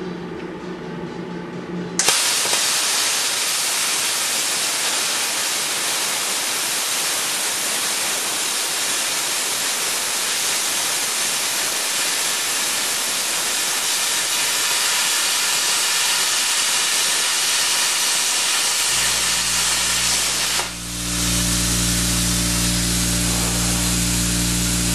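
A plasma cutter slices through 3/8 inch metal with a loud, steady hiss that starts abruptly and lasts about twenty seconds before cutting off into a lower humming drone.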